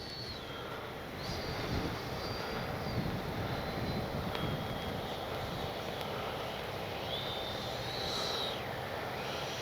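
A Freewing 80mm JL-8 RC jet with its gear down makes a pass overhead, a steady whooshing whine from the ducted fan that holds through the clip with a slight swell, moderately distant and with no talk.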